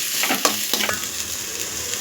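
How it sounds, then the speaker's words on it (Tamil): Chopped onions frying in hot oil for a South Indian vadacurry, a steady close sizzle with a few scraping stirs of a spoon against the pan near the start. "கொஞ்சம் வெங்காயம் போட்டு நல்லா வதங்கணும்."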